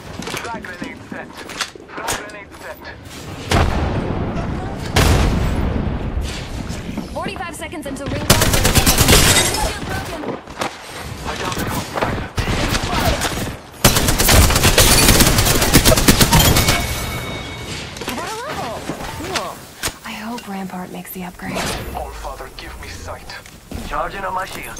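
Gunfire in the Apex Legends battle royale game, with rapid automatic bursts and dense volleys that come and go in long loud stretches, mixed with footsteps and other game effects.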